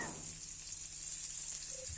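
Steady hiss and crackle of sliced onion frying in hot oil with mustard seeds and cumin, continuous and close, with no talking.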